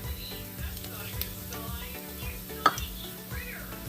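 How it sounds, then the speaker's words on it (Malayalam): Sliced onion sautéing with grated coconut in a pan, a soft steady sizzle with light stirring scrapes and one brief clink near the middle. "ഈ സവാള നന്നായി ഒന്ന് വഴറ്റിയെടുക്കണം"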